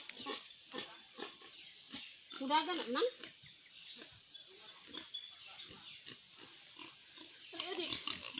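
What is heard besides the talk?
pigs oinking on a farm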